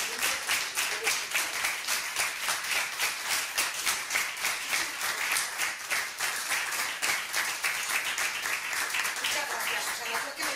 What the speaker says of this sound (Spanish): Recibamos con un fuerte aplauso el reconocimiento.